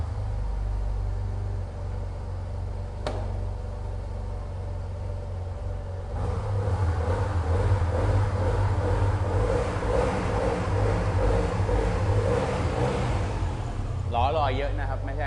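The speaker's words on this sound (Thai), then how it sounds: "เสียงแบบคล้ายๆสี่สูบผมว่ามันคล้ายๆสี่สูบ" A Yamaha T-Max 530 DX scooter engine idles with a low, smooth rumble, then its revs rise into a steadier, stronger drone that stays close and loud.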